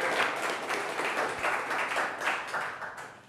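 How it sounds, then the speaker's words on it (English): Audience applause at a web development meetup talk in Columbus, a steady wash of clapping from a room of people, moderately loud and continuous with no talking over it. "Give her a nice round of applause."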